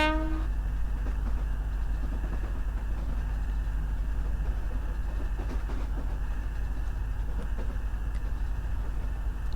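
Locomotive No.14 Captain Howey running in a Roblox railway game, a steady loud train rumble with a low drone and rhythmic clatter throughout, heard alone.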